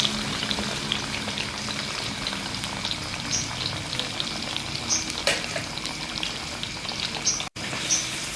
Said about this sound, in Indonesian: Habis goreng tempe, kita goreng jengkol.